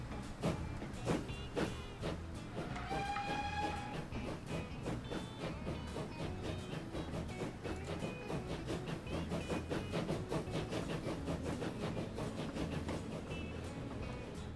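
Steam-era train of a locomotive hauling wagons in the Transport Fever simulation game, a continuous rolling rumble with rhythmic clickety-clack of wheels over rail joints, a few brief whistle-like tones, and no voices throughout.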